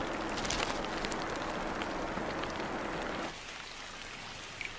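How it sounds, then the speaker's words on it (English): Heavy monsoon rain pours down steadily in a dense hiss, then eases to a lighter patter partway through, with scattered drips. "That call comes with the first of the monsoon rains."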